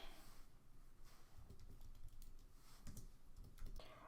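Quick bursts of keystrokes on a computer keyboard as an address is typed in, close and fairly quiet, with short pauses between runs of taps.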